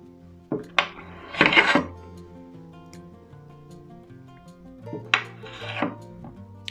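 A knife cuts through homemade Camembert cheese on a board, giving two short, close clusters of scraping and tapping against the surface with quiet gaps between them.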